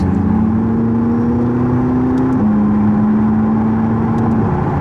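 McLaren 675LT sports car driving on the road, a steady loud engine drone heard from inside, holding an even pitch with a slight rise and a small step change midway.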